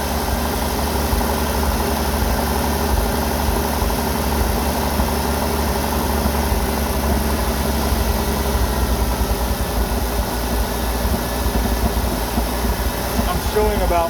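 A Jeep CJ-7 engine with a Holley Pro-Jection throttle-body injection system idles at a fast 950 RPM while running lean and missing. The close, steady rumble stays continuous and even throughout.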